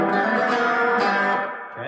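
Electric guitar strumming the open 2nd and 3rd strings in a rockabilly rhythm lick, a bright, sustained, close chord that rings out and fades near the end, with no other sound.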